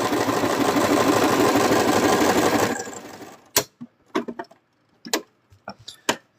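A sewing machine stitches a seam across a plush monster, running in a steady loud whir for a few seconds before stopping, followed by scattered close clicks and soft handling knocks.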